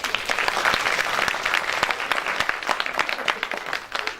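A crowd applauds after a stage play performance, dense and lively clapping with sharp individual hand strikes standing out, loud and continuous for several seconds, thinning slightly toward the end.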